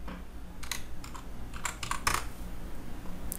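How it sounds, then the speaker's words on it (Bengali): Keys tapped on a computer keyboard while entering a password during an Oracle REST Data Services install, a handful of light, close clicks in small bursts over a quiet room hum. "জাস্ট পাসওয়ার্ডটি লিখে এন্টার দিব"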